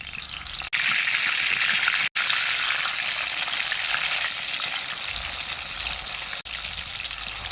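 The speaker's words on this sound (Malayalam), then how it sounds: "ചൂടായ എണ്ണയിലേക്ക് ചാള ഇട്ടിട്ടെ" Loud, steady sizzling of sardines frying in hot oil, a dense crackling hiss that continues throughout with a few brief dropouts.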